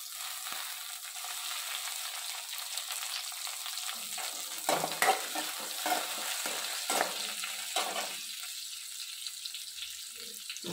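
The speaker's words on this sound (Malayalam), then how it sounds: "ഇത് നന്നായിട്ട് ഉള്ളി ചുമക്കുന്നത് വരെ മൂപ്പിക്കാവേ." Shallots and curry leaves fry in hot oil under a steady, close hiss, with bursts of spatula scraping and stirring through the middle. No voices are heard.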